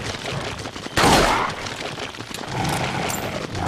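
Gunfire in the video game Resident Evil 4, a loud burst of shots near the one-second mark followed by scattered fainter cracks against steady game ambience.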